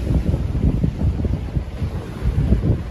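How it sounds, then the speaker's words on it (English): Strong coastal wind at the Mull of Galloway buffets the microphone in loud, rough gusts, with a low roar throughout and no speech. "I checked the forecast and seen the wind"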